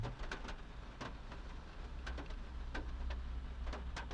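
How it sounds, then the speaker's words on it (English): Steady patter of rain with scattered sharper drops hitting a surface, moderately quiet and continuous, with a low background rumble, at a car event in Queensland. "And it's raining."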